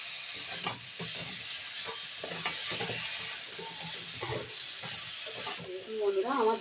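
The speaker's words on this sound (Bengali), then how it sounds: "এই সব সবজিগুলো হালকা করে একটু ভেজে নেব।" Chopped papaya, pointed gourd, potato and eggplant fry lightly in a pan with a soft, steady sizzle, broken by repeated scraping and clattering as they are stirred, and voices murmur faintly.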